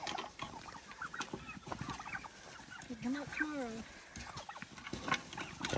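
Turkeys being herded into a chicken tractor at evening, gobbling and clucking in a flock close by, with a few rising warbled calls in the middle; a voice talks intermittently over them.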